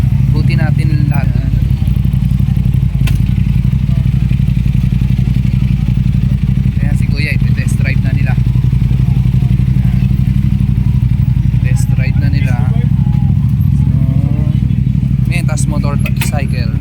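Motorcycles at a motorcycle show with accessory booths and test drives, a steady mid-pitched engine idle and rumble running underneath nearly continuous crowd chatter and talking.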